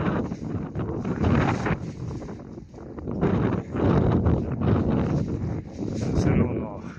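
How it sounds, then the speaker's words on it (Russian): Wind buffeting an outdoor microphone in a south wind where pigeons are flown, heavy rumbling gusts that surge and drop in waves, with a voice speaking faintly in the background. "Ну, ветер южный."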